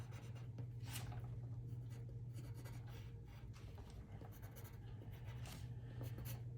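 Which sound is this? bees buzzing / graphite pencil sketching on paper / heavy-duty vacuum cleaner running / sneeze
graphite pencil sketching on paper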